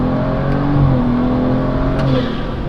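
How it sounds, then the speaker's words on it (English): A stage 2+ BMW 340i pulls hard through third gear on Mickey Thompson tires during a canyon run, the engine drone loud and steady from the cabin, with a faint turbo whine rising over the pull. "so you guys can kind of hear the turbo spool"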